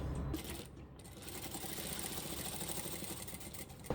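A sewing machine runs a straight seam down fabric pieces placed right sides together, a steady rapid mechanical whir of stitching that continues without pause for several seconds and stays close and fairly loud.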